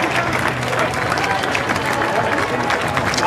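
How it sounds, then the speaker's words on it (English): Racecourse crowd at York applauds after the Sky Bet Ebor Handicap, a dense continuous roar of clapping and cheering under a commentator's voice. "You're getting a big round of applause."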